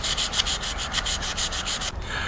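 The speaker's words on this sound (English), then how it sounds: "I'm just using 400 wet sandpaper." Sanding a Jeep Rubicon NP241 transfer case part by hand with 400-grit wet sandpaper, a steady run of quick rhythmic rasping strokes that stops near the end, close and fairly loud with no talk.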